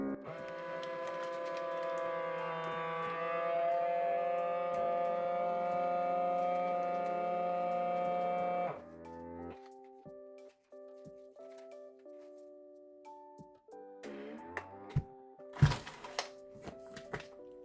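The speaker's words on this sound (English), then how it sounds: "So I'm gonna seal it, and it's gonna vacuum it up." A FRESKO AutoMax V6 vacuum sealer hums steadily for several seconds while sealing a bag, then stops, followed by a series of clicks, thunks and a sharp crackle.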